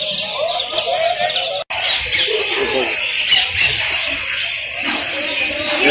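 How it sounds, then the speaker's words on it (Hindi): Pigeons at a market in Lahore's Tollinton Market, with bright chirping and cooing calls filling the space continuously alongside general market bustle. "बहुत प्यारा खूबसूरत कबूतर है यहाँ पे, और ये कितने प्यारे प्यारे जोड़े हैं माशाल्लाह से।"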